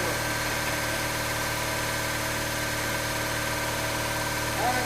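A truck engine idles after its first start with a new alternator and wiring harness, a steady mid-low rumble with a constant hum and vibration, close and unbroken, with no talking.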